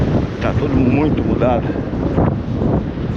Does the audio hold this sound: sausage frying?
no